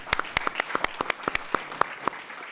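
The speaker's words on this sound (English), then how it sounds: "A round of applause for Ed Jimenez," Audience applause at the close of a panel event, a light scattering of distinct claps from a small group, close and crisp, with an uneven rhythm and gaps between hands, with no voices over it.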